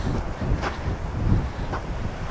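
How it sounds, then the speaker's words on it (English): Gusty coastal wind at Petal Point rushes and buffets the microphone outdoors, with a soft low rumble like surf beneath it. "Pretty windy here."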